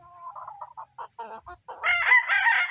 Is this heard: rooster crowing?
yes